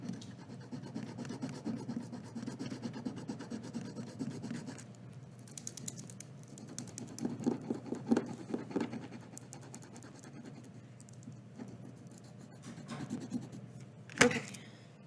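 Quiet, repeated rubbing and scratching strokes, as a hand presses packing tape down on a surface for a tape transfer, with a sharper tap near the end.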